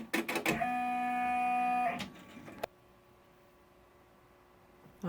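An embroidery machine stitching out a medical alert patch gives a few rapid mechanical clacks, then a steady whirring drone for about two seconds, more clatter, and a quiet hum once it stops, close and fairly loud, with no voices.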